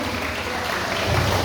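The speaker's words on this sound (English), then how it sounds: "Let's clap for them." Audience applause for children at a church Children's Day program, a steady wash of clapping throughout that swells slightly near the end.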